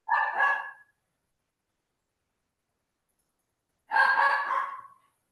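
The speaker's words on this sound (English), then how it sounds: "we hear Gloria's dog has a lot of thoughts on this" A dog barks in two short loud bursts a few seconds apart during an online advisory board meeting, with silence between the outbursts.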